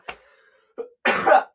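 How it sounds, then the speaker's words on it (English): A person coughs several times in a row, a short cough first, then a small one and a longer harsh burst followed by another, loud and close with silence in between. "I'm trying to survive this stupid cough"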